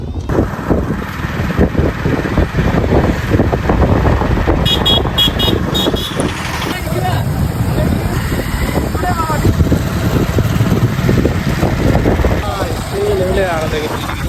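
Wedding procession cars idle and roll along Guskara Road, with short car-horn toots that break out in bursts over engine rumble. People talk throughout.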